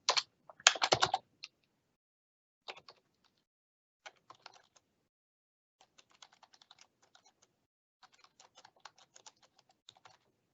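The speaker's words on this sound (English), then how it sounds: "I'm typing, it's not typing anything on my screen." Typing on a computer keyboard while filling in a Microsoft Forms upload field: a quick burst of clicking keys followed by sparse, faint scattered keystrokes, with no talking.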